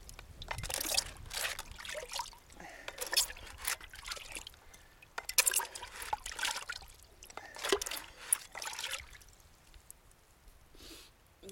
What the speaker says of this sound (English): There's no gold in it, so we're going to rinse it out.